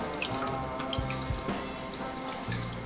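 Soaked lentils being washed in water for homemade baby cereal, with running tap water, splashing and drips in a sink, steady and close throughout.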